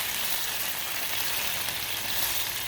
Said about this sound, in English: so we'll just give this a little bit of a stir